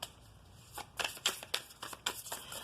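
Tarot cards being shuffled at close range, a quiet run of soft papery riffles and slaps arriving in uneven bursts with short pauses between them, no voices present.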